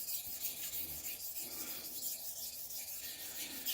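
A 1000 grit water stone is lapped against a 140 grit diamond plate, giving a continuous gritty rubbing and scraping with rhythmic back-and-forth strokes, fairly quiet and close.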